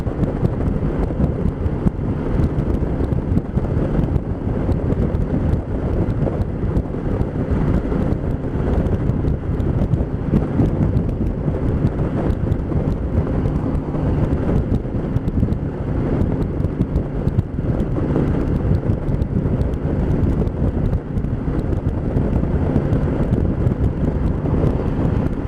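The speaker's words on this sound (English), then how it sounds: "A little gusty." Gusty wind buffets a microphone during a commute, a loud steady roar of rumbling low noise with slight swells in strength, continuous for the whole stretch and with no talking.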